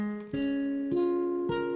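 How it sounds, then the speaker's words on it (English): Stacked fourths played in a row as sustained, bell-like instrument chords, three clear attacks each stepping to a new pitch and ringing on, with an open, spacey quality, quiet and without talk. "sound of stacked fourths."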